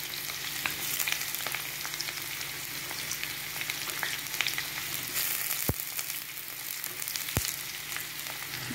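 Potatoes and capsicum fry in a pan for a spicy alur dum, a soft, even sizzle with a couple of sharp utensil clicks near the end.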